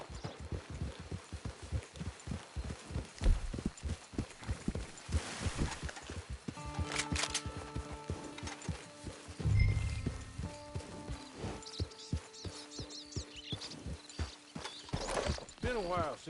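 Horse hooves clip-clopping in a video game, a steady run of close, distinct hoof strikes that slows and pauses midway, then resumes, with music tones and a brief snort in the background.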